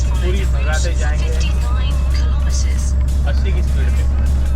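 Car speeding along a road during a drive, with steady engine and road rumble throughout as a person talks over it.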